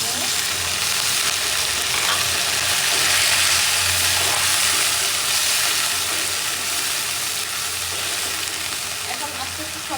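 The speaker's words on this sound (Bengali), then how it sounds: "এখন আমি এখানে দিয়ে দিব পরিমাণ মতো পানি।" Onions and potatoes frying in a pan as water is poured in, giving a loud, steady broadband sizzle that swells briefly and then settles into continuous hissing.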